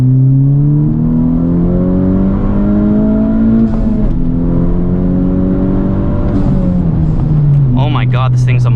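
A Honda Civic Type R fitted with a PRL intercooler accelerates hard on a road, its loud engine tone rising steadily through the gears, with drops at two shifts.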